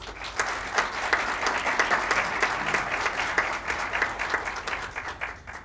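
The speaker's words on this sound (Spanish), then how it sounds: "doctora Alejandra Liriano, para quienes pido un fuerte aplauso." An audience at a formal international relations forum bursts into sustained, dense applause that holds steady for several seconds before beginning to taper off.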